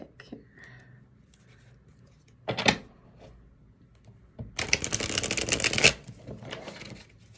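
Love Oracle card deck being shuffled close up, a brief riffle followed by a longer rapid flurry of papery card flicks over a quiet background.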